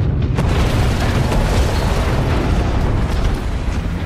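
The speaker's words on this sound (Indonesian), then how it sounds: "ledakan hebat pun membelah dan menenggelamkan kapal seketika" A huge explosion as a submarine torpedo strikes a ship: a loud, dense roaring boom that fills the whole stretch with no voices.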